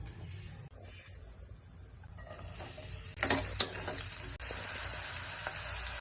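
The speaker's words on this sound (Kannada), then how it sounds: "ಸ್ವಲ್ಪ ಹಸಿ ವಾಸನೆ ಹೋಗೋವರೆಗೂ ಫ್ರೈ ಮಾಡ್ಕೊಳ್ಳಿ ಚೆನ್ನಾಗಿ" Masala paste of ginger-garlic, garam masala, cumin, chili and coriander powder fries in oil in a pan for chole masala, a steady close sizzle that grows louder, with occasional scraping stirs.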